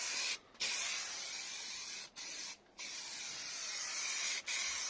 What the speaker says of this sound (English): we're just laying some etch primer on it, and that will take most of the imperfections out and give us a nice good base to paint on